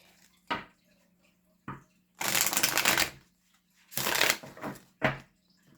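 Tarot cards being shuffled in several crisp riffling bursts, two long and a few short, close and loud with quiet gaps between.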